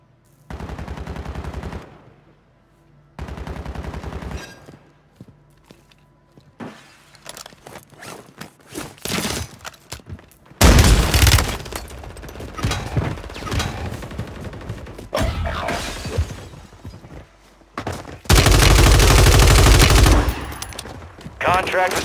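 Bursts of automatic gunfire in the video game Warzone 3, loud and close, with sustained volleys separated by quieter gaps with footsteps and gear rustle.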